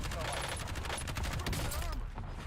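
Rapid automatic gunfire from a gun in a Rebirth Island video game match, dense repeated bursts close up, with a player talking over it.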